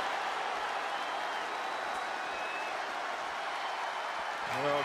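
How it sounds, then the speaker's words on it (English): A loud crowd at a wrestling tag team championship main event, a dense, steady roar of cheering and applause throughout, with a faint voice rising near the end. "when you can't hear yourself think because the crowd's so loud"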